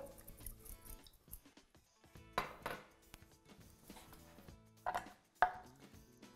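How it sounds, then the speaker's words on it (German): A knife slicing fresh ginger into a few pieces, heard as sparse, quiet, close cuts against a board, with a few sharper chops near the end. "Und schneide ich Ingwer. Ca. 5 Scheiben."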